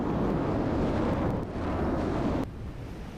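Explosion blowing the turret off a combat vehicle in the From the Depths game: a sustained, loud, rumbling blast roar that cuts off abruptly near the end, leaving a quieter tail.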